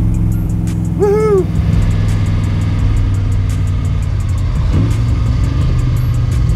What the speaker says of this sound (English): engine is a noticeably different sound